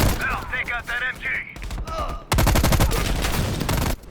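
Sustained machine gun fire in the Call of Duty: Black Ops video game rattles loud and continuous for well over a second, following shouted voices and scattered shots amid chaotic battle noise.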